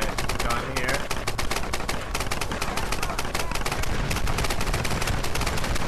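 A big mounted gun fires in the Tomb Raider multiplayer beach team deathmatch, hammering out rapid, loud, sustained bursts of automatic fire with barely a pause from start to finish.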